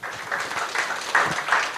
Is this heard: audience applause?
yes